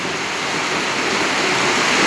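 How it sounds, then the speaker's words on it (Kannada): Rainwater rushes steadily in a loud, continuous roar, a strong flow of runoff close by, with no voices. "ತುಂಬ ರಭಸವಾಗಿ ನೀರು ಹರಿತಾ ಇದೆ"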